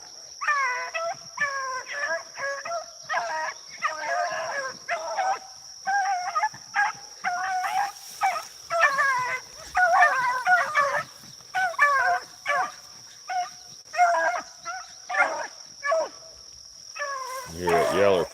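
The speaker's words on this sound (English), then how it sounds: "You hear that yeller pup there barking." Beagle hounds bay and bark in repeated bursts while running a rabbit, including a young yellow pup, with a steady insect-like whine in the background and a louder, closer yelp at the end.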